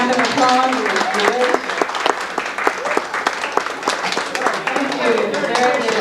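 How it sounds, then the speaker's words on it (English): Audience at a 45th reunion of a high school class of 1957 claps steadily in a room, a dense patter of many hands with voices mixed in. "round of applause."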